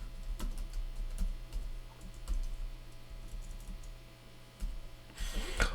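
Keystrokes on a computer keyboard typing a search query, a steady run of light clicks at close range over a low background hum, with no voices.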